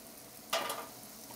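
Flour tortillas dropped into a little hot oil give one sudden, bright sizzle that flares up and then fades to a soft fry, close by with no talk.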